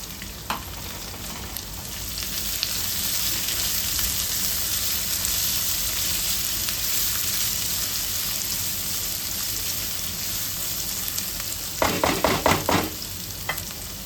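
Onion sizzling and frying in hot oil with garlic, ginger and green chillies for a dahi bhindi masala, a steady close crackle throughout, with a burst of stirring clatter near the end and no talking.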